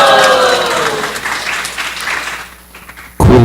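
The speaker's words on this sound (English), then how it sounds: "That was the best clapping I've ever heard so far." Audience applause at a live class, broad steady clapping from a crowd that fades out near the end before a sudden loud burst of other sound cuts in.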